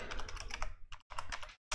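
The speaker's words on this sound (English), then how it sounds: "So I'll be just typing IFoA non-member" Rapid typing on a computer keyboard, with quick clusters of close key clicks broken by brief pauses.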